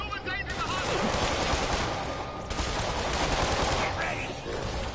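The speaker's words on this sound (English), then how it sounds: "Wow, there's been a lot of shooting here." Gunshots in a Spider-Man film scene, a sustained rattle of rapid gunfire mixed with a loud score, steady and dense for the whole stretch, with a voice heard briefly.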